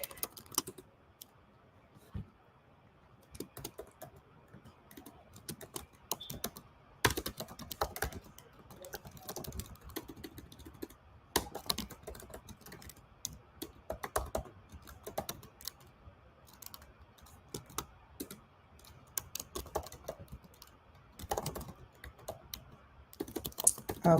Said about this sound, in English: I've got IG in my other screen, so I'm typing over it.